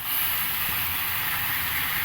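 Spice paste dropped into hot oil tempered with cumin and bay leaf bursts into a loud, continuous sizzling hiss, close and even throughout with no voices.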